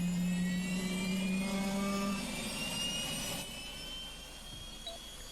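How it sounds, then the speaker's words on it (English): A jet engine spools up in a flight simulator game, giving a steady mechanical whine with layered tones that shift in pitch, a low hum underneath, and a slight drop in level partway through; nobody speaks. "So when I turn the motor on, which I have to wait for it to warm up"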